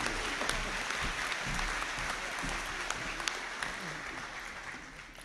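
An audience claps steadily at a graduation conferring ceremony, a broad, even spread of applause sustained across the whole stretch and easing slightly toward the end, with some faint voices murmuring beneath it.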